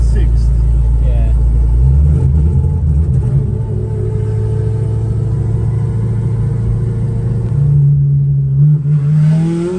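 A drift car's engine rumbles steadily at low revs while cruising at Irwindale, with a sustained droning tone that rises briefly near the end; people talk over it throughout.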